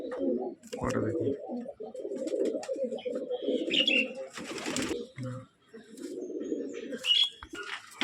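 Male pigeon, full-feathered with a closed tail, giving low rolling coos near the microphone in steady phrases, broken by sharp handling or wing rustles and brief chirps.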